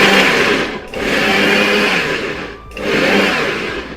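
A kitchen mixer grinder whirs loudly as it grinds garlic and ginger into a paste, running in two long bursts separated by brief pauses.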